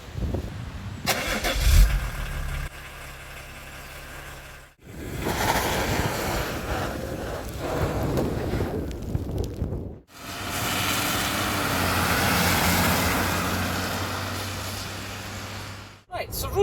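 A 2.4-litre straight-six turbo diesel, originally from a 1974 Volkswagen van, runs in a 30-year-old Volvo 760 with a steady, loud mechanical drone that swells and fades across several takes broken by brief cuts.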